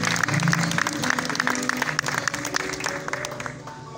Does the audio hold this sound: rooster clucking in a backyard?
no